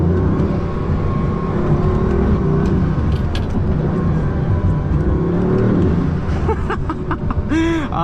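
A Bugatti Veyron accelerating hard on an open road, its engine roaring loud and continuous from inside the cabin, with rising whines and a few sharp chirps near the end.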